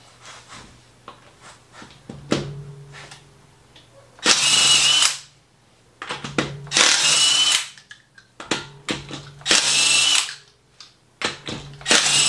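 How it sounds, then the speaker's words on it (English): Harbor Freight electric impact wrench zipping lug nuts off a Honda Pilot wheel in a garage, three loud sustained bursts of a second or so each, separated by quieter clanks and handling noises. "these little Harbor Freight electrical impacts will definitely save your back"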